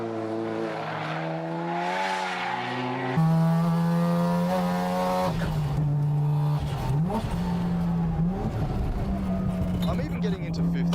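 Tuned Mazda RX-7 FC3S race car accelerating hard on a track, its rotary engine droning in strong sustained harmonics that rise and shift with gear changes, loud and close, with someone talking over it throughout.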